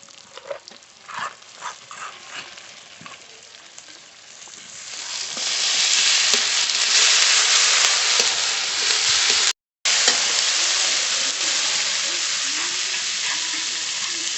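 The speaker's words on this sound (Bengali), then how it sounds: "পেঁয়াজটা একটু ভেজে নিয়েছি এবার পেঁয়াজ বাটাটা দিয়ে দেবো" Onion paste added to a pan of fried chopped onions, sizzling and frying loudly and steadily after a quieter start with scattered clinks, continuing without pause.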